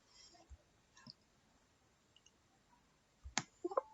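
A computer mouse gives a few faint, sparse clicks while a file is saved, with quiet gaps between them and a small cluster of sharper clicks near the end.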